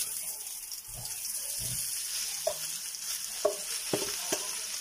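A large amount of garlic fries in a pan, a steady sizzle with occasional stirring knocks and scrapes, close and fairly soft, with no voices.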